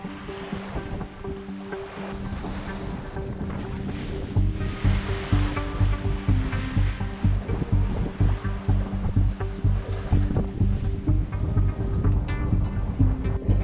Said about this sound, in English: The wind has calmed down, it's now 18 knots. The swell is very reasonable